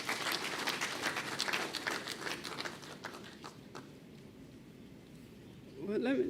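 Round of applause from an audience at a public budget presentation, dense clapping that thins out and fades after a few seconds, with a brief voice near the end.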